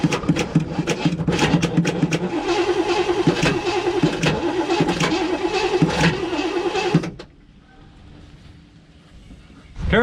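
A 1958 Chevy Biscayne with a 5.7 engine, neglected for years, is cranked over: loud rhythmic whirring of the starter and engine for about seven seconds, then it cuts off to near quiet before another burst at the end.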